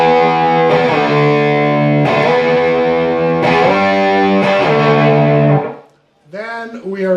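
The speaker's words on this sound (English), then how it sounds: "we turn up the distortion" Heavily distorted electric guitar chords ring out loud and sustained in several strummed blocks, then cut off briefly before a few shorter bent notes.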